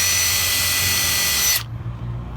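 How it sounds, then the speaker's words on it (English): A power drill with a pre-drill bit bores through a deck rail bracket with a loud, steady whine, then cuts off abruptly, leaving only low room noise. "We'll get our pre-drill bit, and we'll just use the actual bracket as a pre-drill guide."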